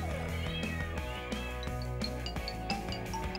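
Cartoon cat stuck in a tree meowing in a run of short, repeated mewing calls over a steady musical background, fairly faint.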